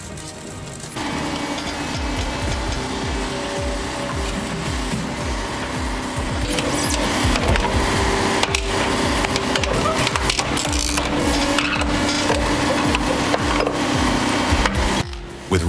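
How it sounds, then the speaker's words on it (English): An American-built industrial shredder with reinforced rotors tearing tires with steel cores into fragments, a loud continuous grinding and crunching roar that grows heavier partway through. "this American-built shredder reduces tires, including their steel cores, into fragments in seconds"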